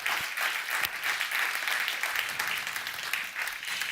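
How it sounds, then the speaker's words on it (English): An audience applauds a competition jury at a panel event on democracy and AI, a steady, fairly loud wash of many hands clapping that fills the whole stretch with a few sharper individual claps standing out. "clap, give the jury a hand."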